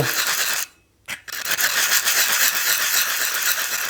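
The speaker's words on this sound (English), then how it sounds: "We're just going to sand through the seasoning until" Sandpaper rasping through the seasoning on a cast iron skillet, a continuous gritty scrubbing close up with a short pause near the start, no talking.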